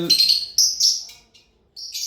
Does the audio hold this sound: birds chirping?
yes